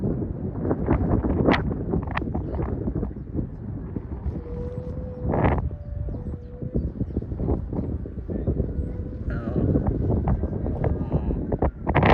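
Strong gusty wind buffets the microphone with a steady low roar while a 95 cm Thai chula kite with a repaired broken head is flown outdoors. Occasional faint tonal whistles and brief knocks sit within the constant rush.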